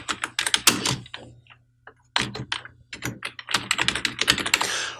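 Rapid keystrokes on a computer keyboard as an email address is typed, coming in close, busy bursts with a short pause in the middle and a faint steady hum underneath.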